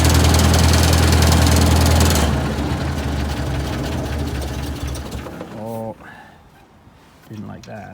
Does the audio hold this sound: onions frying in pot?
no